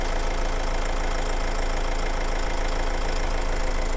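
Honda CR-V 2.2 i-DTEC chain-driven diesel engine idling with the bonnet open, a steady, dense rumble with faint knocking clatter, continuous and close, no talk.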